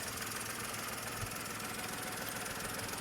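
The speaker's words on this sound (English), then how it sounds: "we're just leaving it to idle here to build up a bit charge" A 2010 Skoda Fabia engine idles steadily nearby, a constant, even mechanical rumble with a faint rhythmic knock and no voices.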